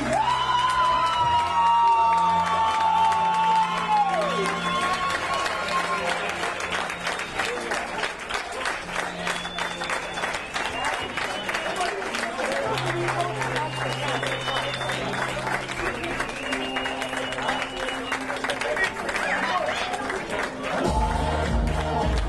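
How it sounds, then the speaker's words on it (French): An audience at a live improv match cheers and applauds loudly and steadily for about twenty seconds, with whoops and shouts mixed into the sustained clapping and a voice audible over the crowd at the start. "Je crois que les deux équipes méritent une bonne main d'applaudissements"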